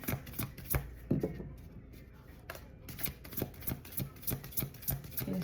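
Oracle cards are shuffled and handled from a deck, a close series of soft riffling flutters and papery taps with brief pauses.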